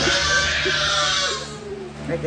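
A child screams loudly and continuously at close range, the shrill cry fading after a second or so, with some brief voice sounds near the end.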